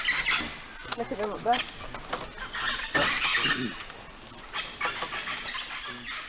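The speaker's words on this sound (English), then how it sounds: "Can you hear the parrots?" Parrots give a few harsh, squawking calls at a distance, heard between and under people talking nearby.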